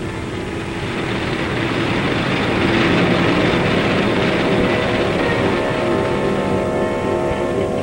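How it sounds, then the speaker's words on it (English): Bomber aircraft engines winding up out at the dispersals, a loud steady droning roar that swells slightly and holds, heard alone without talk. "Out in the dispersals, you hear them winding up those engines."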